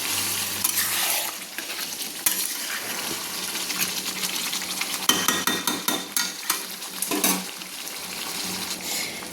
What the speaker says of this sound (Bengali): জলটা দিয়ে আমি দেখুন ভালো করে নেড়ে নিচ্ছি,